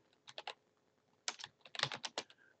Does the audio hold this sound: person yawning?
no